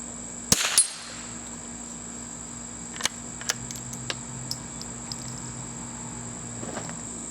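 A Winchester Model 52 .22 rifle firing at a swinging target outdoors, with one sharp loud crack followed by several faint, spaced metallic pings or clicks against a steady background hum.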